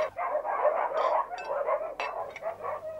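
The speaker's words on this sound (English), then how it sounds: "Those are Morgan's dogs you can hear barking." Three dogs barking together as a sound effect in a Famous Five audiobook, a busy, overlapping clamour of barks at moderate distance that carries steadily through the whole moment, with no talking over it.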